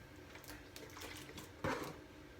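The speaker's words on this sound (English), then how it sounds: "I'm just going to put a little bit of orange juice in there as well." Orange juice trickles into a glass of sparkling water, a quiet running liquid with soft splashes and a brief louder gush near the end.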